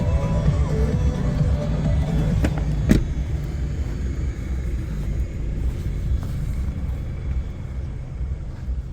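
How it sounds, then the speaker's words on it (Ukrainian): The engine of a used commercial van idles at a car market, a steady low rumble running throughout, close and fairly loud, with one brief sharp click partway through. "Заведений двигун"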